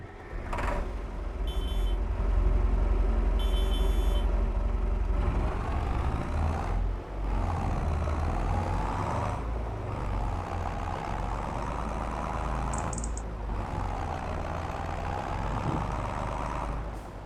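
Small yard tractor engine running on a farm, a steady low rumble at close range with a few brief knocks and clanks over it, no talk.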